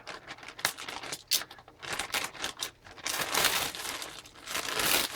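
Plastic wrapping on a package crinkles and tears as it is opened by hand, fairly soft and close, with irregular rustling bursts that grow busier and louder toward the end.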